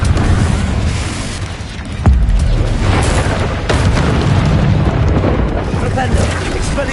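A loud, deep boom from the Confringo fire spell in a wizard video game rolls into a rumbling blast, with a sharp crack partway through and spoken voices over the din.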